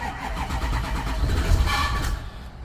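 A 2008 Ford E350 van with the 6.0 Powerstroke diesel cranks and catches after a secondary fuel filter change, a short rumbling start that settles into a rough low idle, close and alone.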